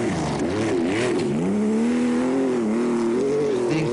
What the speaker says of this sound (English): still there in his raucous Porsche